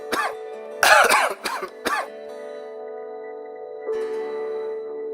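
A child coughs several times in sharp bursts, with one harsh throat-clearing cough among them, heard up close before a sustained musical tone carries on alone.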